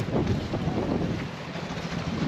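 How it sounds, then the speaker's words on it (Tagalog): A small passenger bangka rumbles along, its engine drone and the rush of wind and water blending into a loud, steady noise close by. "Ito sasakyan namin yung maliit na bangka na to."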